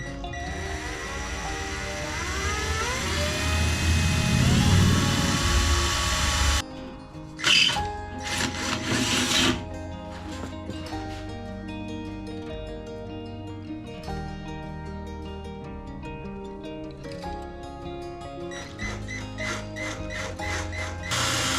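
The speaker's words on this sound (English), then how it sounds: "Grab the drill, get these done." A power drill bores holes during a Rover K-Series classic Mini build, giving a sustained motor whine over a long stretch. Rising and steady whirring tones are broken by brief pauses and clunks.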